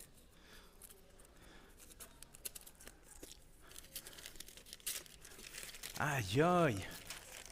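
A present wrapped in newspaper is unwrapped with scattered crinkling and tearing of paper, growing busier toward the end, where a voice cries out over the rustling.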